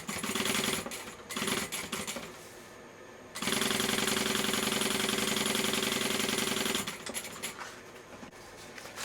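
A sewing machine stitches the seam of a backpack in loud rapid mechanical bursts: a short run, a pause, then a long steady stretch of stitching before slowing into stop-start taps.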